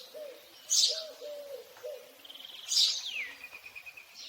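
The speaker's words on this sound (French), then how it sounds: "un tout petit oiseau, un tout petit passereau qui est le moineau" Small sparrow calls: a few chirps and cooing notes with two sharper bursts of higher chirping, heard alone in a quiet setting.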